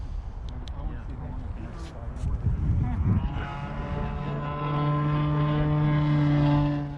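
An OMP Hobby Bighorn 49 Pro RC airplane in flight: a steady propeller drone with a rough, breezy noise floor that swells into a strong, tonal motor whine over the final seconds, holding loud and near.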